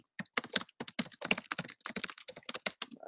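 Rapid, uneven keystrokes on a computer keyboard, close and crisp, clattering steadily for about three seconds with brief pauses between bursts and no voices.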